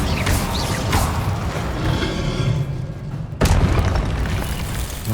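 A fire spell, Incendio, cast in the video game Hogwarts Legacy, producing a dense roaring whoosh of flame with booming thuds, a brief drop near the end and then a sharp burst, all fairly loud and continuous.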